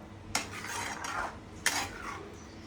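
A utensil scrapes and stirs palak paneer in a pan, with two sharp clinks against the metal and a soft rasp of mixing in between, close and fairly quiet.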